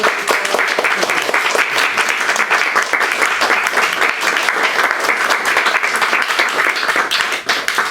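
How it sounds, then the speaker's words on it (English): A seated audience gives sustained, dense applause after a poetry reading, loud and even for several seconds with no voices over it. "Let's thank give you. you a round of applause."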